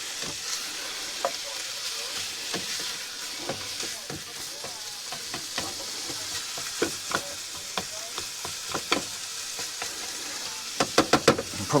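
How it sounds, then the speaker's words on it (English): Mince meat with butter and onion sizzles steadily in a frying pan, with sharp clicks and scrapes from stirring that grow more frequent toward the end. "might even toss in some more butter soon, but I've just got to brown this meat off"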